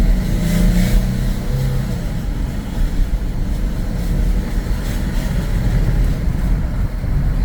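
A 1993 Dodge Grand Caravan accelerating on a test drive, a steady loud engine and road rumble heard from inside the cabin, with wind noise throughout and no talking.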